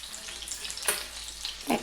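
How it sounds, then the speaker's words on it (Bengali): Pieces of katla fish fry in hot oil, giving a soft continuous sizzle with a couple of brief louder spits and crackles, close by and alone. "মাছটা ভাজা হতে হতেই"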